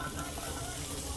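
Garlic, onion and mushrooms sautéing in a pan give off a steady, close sizzle and hiss, dense and unbroken throughout, with no clear voice over it.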